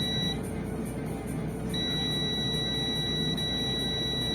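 A multimeter on continuity mode emits a sustained high electronic tone while its probes test points on an iPhone 7 logic board, cutting out briefly and then resuming, steady and close with no talk.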